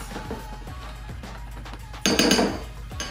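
Coleslaw ingredients being tossed with Dijon mustard, apple cider vinegar and sugar, giving light clinks and scrapes of utensils against a bowl, with a louder burst of rattling and clattering near the end.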